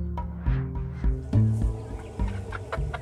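Chickens cluck in short, low bursts, several birds close by with a busy, scratchy farmyard background.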